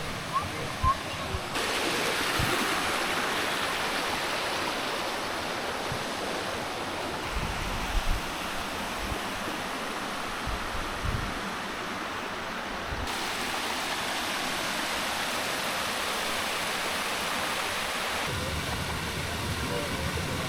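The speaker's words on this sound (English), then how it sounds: "the people are sliding down the waterfall and swimming in it" A waterfall in Pai, Thailand, where people slide down the rock and swim, gives a constant broadband rush of falling water, close and steady, with a few brief knocks and splashes breaking through.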